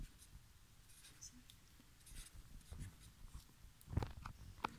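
A pen writes numbers on paper, making soft, close scratchy strokes that grow a little louder with a sharper tap near the end, all quiet and close.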